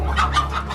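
Fighting rooster gives a brief clucking call, close and fairly loud, lasting under a second above a steady low background hum.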